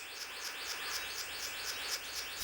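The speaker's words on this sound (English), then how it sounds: "A male bluebird of paradise is advertising for a mate." A male blue bird of paradise calls to attract a mate, giving a rapid series of bright, repeated descending notes that sound close and clear over a faint background hum.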